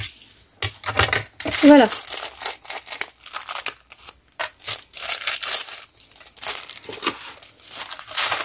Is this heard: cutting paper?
yes